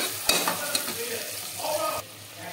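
Tomato pieces fry in a pan for gongura pulav, with a steady soft sizzle under a few sharp clinks and scrapes of a spoon stirring against the pan.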